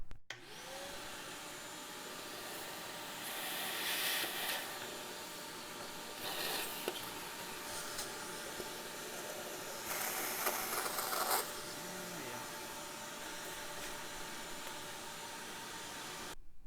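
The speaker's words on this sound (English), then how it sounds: "let's vacuum this thing out" A vacuum cleaner sucks dust out of a 1990s RCA CRT television, a steady airy whine with brief louder surges as the nozzle moves around inside the set.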